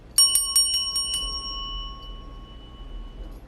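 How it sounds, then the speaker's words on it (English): A small hand bell rung during a prosperity spell, about six quick bright dings in a burst, then a clear ringing tone fading slowly into quiet, close and alone. "And then you're just going to ring your bell."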